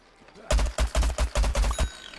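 A gun in the shooter game Plants vs Zombies Garden Warfare fires in short, evenly spaced bursts, six or seven loud close blasts in quick rhythm.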